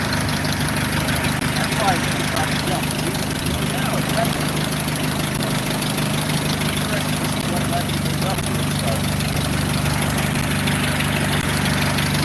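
A Ford Model A engine fitted to a Pietenpol aircraft runs steadily on its first run of the year, a continuous loud rumbling idle with prop and wind noise.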